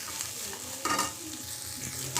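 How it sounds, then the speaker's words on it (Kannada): Mixed sprouts frying in oil in a pan for a sprouts palya, a steady sizzle with scraping stirring strokes near the one-second mark and again toward the end, no voices. "ಈಗ 2 ಮಿನಿಟ್ಸ್ ಚೆನ್ನಾಗಿದ್ದನ್ನ ಈ ಥರ ಎಣ್ಣೆ ಹಾಕಿ ಫ್ರೈ ಮಾಡ್ಕೊಳ್ಳೋಣ"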